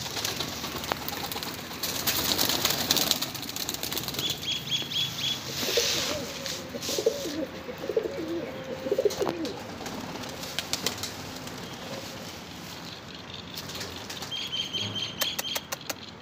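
Pigeons coo in low, soft repeated phrases amid rustling and wing flaps, with scattered chirps from other birds in the background.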